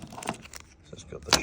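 A pack of metal bump keys jangles in quick, bright clusters near the listener, with a sharper rattle at the end, while a voice talks underneath.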